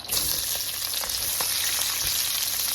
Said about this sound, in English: I'm kind of letting this come up to heat a little bit more because we do want to hear that sizzle